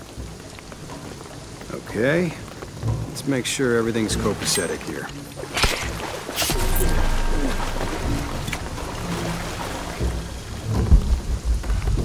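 Heavy rain pours steadily in Shadow of the Tomb Raider, with cracks and rumbles of thunder breaking through and a voice talking over parts of the storm.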